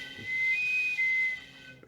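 Breath blown down a tube that mimics a bass reflex loudspeaker port, heard as a faint airy hiss with a steady high whistling tone that shifts pitch partway through, close and alone for under two seconds.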